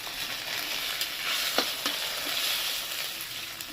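Egg mushroom curry fries in a pan with a constant close sizzle, punctuated by a few scraping stirs of the spoon.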